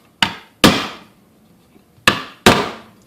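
A hammer pounds a crown staple, left slightly proud by an air nailer-stapler, down into wood: four sharp, loud whacks close by, in two pairs separated by a short pause.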